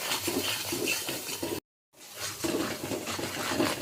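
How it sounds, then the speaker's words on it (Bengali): Ground turmeric, chili, cumin, coriander and black pepper sautéing in oil with a little water, a close sizzle broken by scraping stirs and spoon clinks, with a brief gap midway. "তেলের মধ্যে সব মশলাটা খুব ভালো করে কষিয়ে নিয়েছি"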